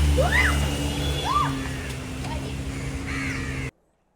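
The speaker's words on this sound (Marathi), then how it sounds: "हे बघा किती कावळे जमलेत, कावळ्यांना जेवण देत आहेत" Several crows caw in short bursts, fairly close, over a steady low hum and background water noise.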